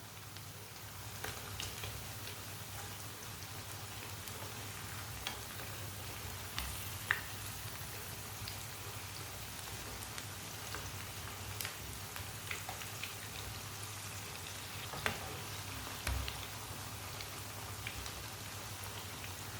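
Kebabs fry in a pan with a soft, steady sizzle and scattered small pops and crackles, quiet and close throughout.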